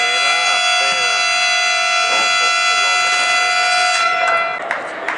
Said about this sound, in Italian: suona la sirena